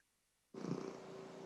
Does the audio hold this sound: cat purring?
yes